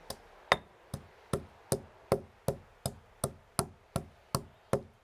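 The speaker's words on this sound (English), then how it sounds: "we grind in the mortar a bit of black pepper and one myrtle berry" Black pepper and a myrtle berry pounded in a mortar, about a dozen sharp, evenly spaced pestle strikes ringing out close and clear with nothing else heard.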